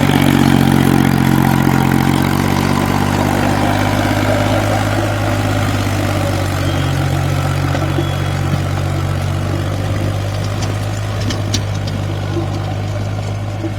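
A Massey Ferguson 9500 Eco Smart 50 HP tractor engine idles steadily nearby with a deep, even throb, running continuously without pause while hitched to a six-foot, 42-blade rotavator.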